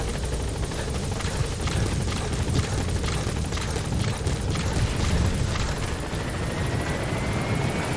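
Helicopter from the video game Metal Gear Solid V, a steady broadband rotor roar with low thumping held at constant loudness throughout, no voices over it.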